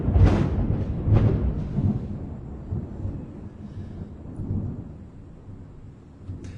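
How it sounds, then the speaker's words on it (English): Low rolling thunder rumbles through the whole stretch, with two heavy booming surges near the start that slowly fade into a softer, distant grumble, with no talking. "the thunder made me forget what I was gonna say."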